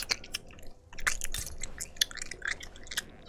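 Wet, squishy chewing and biting, close and fairly loud, in irregular bursts with small clicks and crunches.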